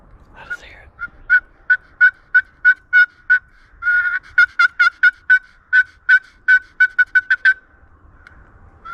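Turkey hunting call imitating a gobbling turkey, played from a recording: a long run of about twenty sharp, evenly spaced yelps and gobble-like notes, loud and clear in a quiet room, briefly quickening in the middle.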